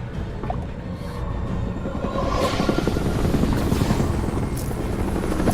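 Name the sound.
helicopter in the video game Marlow Briggs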